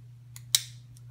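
Swiss Army Knife scissors being handled, two or three small sharp metallic snips and clicks, close and brief, over a faint steady hum.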